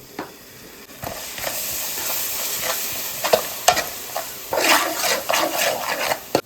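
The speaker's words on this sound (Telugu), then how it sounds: "అలాగే దూరగా కట్ చేసుకున్న ఉల్లిపాయలను మరియు పచ్చిమిర్చిని ఈ ప్యాన్లో వేసుకొని వేయించాలి" Onions and green chillies fry in a pan with spices, rock salt, turmeric, chilli powder and ginger-garlic paste for a fish curry. The sizzle hisses steadily while close stirring scrapes come in bursts, and no one speaks.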